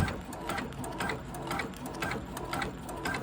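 A stitching embroidery machine runs with a rhythmic mechanical chatter. Regular repeating clicks and whirs come about twice a second at moderate loudness, and there is no talking.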